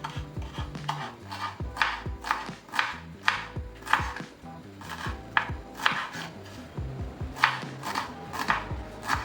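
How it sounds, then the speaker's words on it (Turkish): Steady knife chopping of purslane on a cutting board, quick regular strokes close up, with brief pauses between bursts; no talking. "Önce doğrayacağım."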